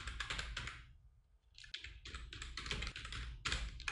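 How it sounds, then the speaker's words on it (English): Quick bursts of typing on a computer keyboard while entering text for an After Effects title animation, close and clear, with a short pause before the key clatter resumes, no talking. "So I'm typing title animation."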